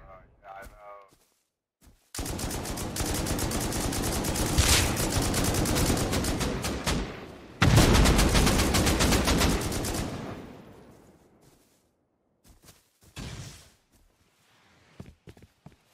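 Loud, sustained automatic gunfire rakes toward the player in a multiplayer shooter game: two long sprays of rapid shots separated by a short gap. Quieter footsteps and a few isolated shots come before and after.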